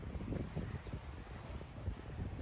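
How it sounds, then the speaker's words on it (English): Strong wind buffets the microphone outdoors at a boathouse beside a 2012 Howard 28 SCS boat, a steady low rumbling roar with gusty swells throughout and no voices. "I'm battling pretty high winds out here at the boathouse today"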